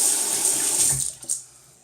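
Tap water runs steadily into a sink and is splashed onto a face before shaving, a close, bright hiss that breaks into a couple of short splashes and then cuts off, with no voices.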